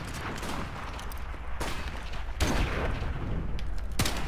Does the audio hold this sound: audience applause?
no